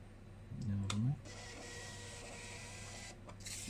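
A newly unboxed wireless receipt printer for orders prints a receipt, giving a short motor whir with a few clicks, then a quieter steady feed and a final click.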